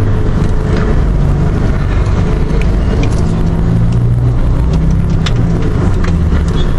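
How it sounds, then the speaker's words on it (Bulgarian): Busy street traffic in Naples fills the scene with a loud, continuous roar of engines and passing vehicles, a steady dense city rumble with no breaks. "Градът е доста шумен."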